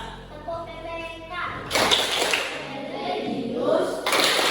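Indonesian schoolchildren standing in a classroom perform a rhythmic group clapping routine, broadband bursts of many hands striking together after a stretch of talk, with children's chanting voices running under the claps.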